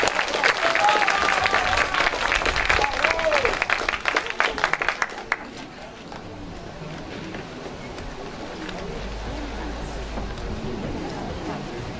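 A concert audience at a patriotic poetry recital claps to welcome poet Yun Bo-young, loud applause for about five seconds that then fades into quiet room murmur.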